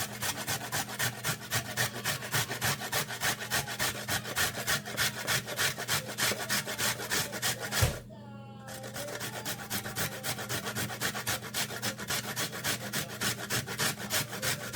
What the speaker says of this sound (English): So I'm just basically going to press it up against there and just grate it on down.